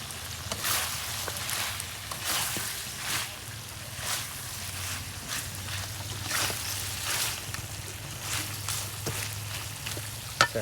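Food sizzles and fries on a clay stove, with a steady crackle running throughout and occasional stirring scrapes. A low hum sits underneath, and there is a brief louder knock near the end.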